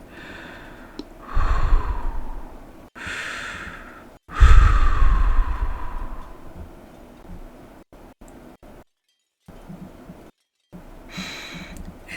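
Heavy, laboured breathing during an attack: a few deep, drawn-out breaths and sighs, close and loud, separated by short gaps and fading breaths.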